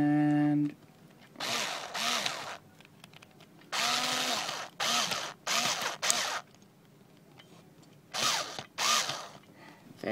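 A screw is driven back into a plastic DMY D-01 Deluxe Optimus toy figure in several short bursts of whirring, ratcheting mechanical noise separated by brief pauses, close and fairly loud.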